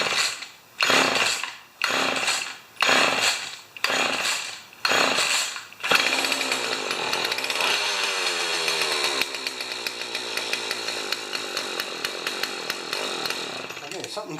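Damaged Husqvarna 36 chainsaw being pull-started: about six loud rasping bursts from repeated cord pulls, then the engine catches and runs steadily, close and loud, with occasional speech.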